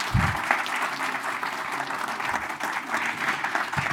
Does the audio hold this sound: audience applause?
yes